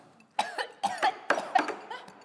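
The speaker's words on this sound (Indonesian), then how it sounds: "tiba-tiba batuk-batuk kenceng gitu" Someone coughs in a rapid series of harsh, close bursts, roughly four or five in a row with no talking.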